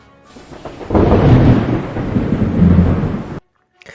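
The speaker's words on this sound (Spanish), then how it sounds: "Estamos navegando en nuestro barco mientras está lloviendo." Rain and a deep rolling thunderclap during a storm, heard from a boat sailing in the rain; the rumble builds, stays loud and steady for about two and a half seconds, then cuts off abruptly.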